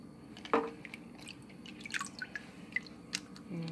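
Water swirls in a sink whirlpool around small Lego figures, giving quiet, close drips, splashes and gurgles with no talk.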